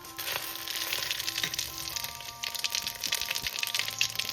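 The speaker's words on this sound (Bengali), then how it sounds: "সবার প্রথমে আমি ফোড়নটা দিয়ে দেবো, জিরে, শুকনো লঙ্কা আর তেজপাতা।" Cumin seeds, dried red chilli and bay leaf tempering in hot mustard oil in a kadai crackle and sizzle up close, steady with small pops and a few light utensil taps.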